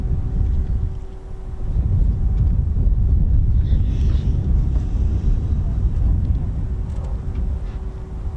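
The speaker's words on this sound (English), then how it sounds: "Typhoon 84 taxiing from the main as well." A Eurofighter Typhoon FGR4 jet taxis at RAF Coningsby, giving a steady low roar with wind noise and a faint high whine, fairly constant throughout.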